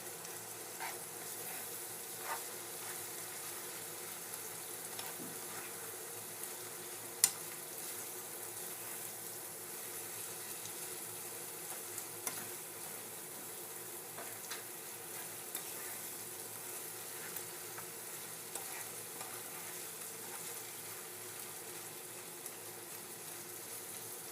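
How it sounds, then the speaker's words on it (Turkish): Quiet, steady sizzle of eggplants frying in oil, with occasional small pops and crackles scattered through the hiss. "Patlıcanları kızarttık"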